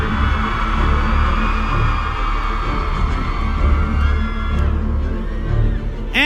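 An audience at a Harry Potter celebration event applauding and cheering to welcome Jason Isaacs, a loud, dense crowd roar with whoops throughout.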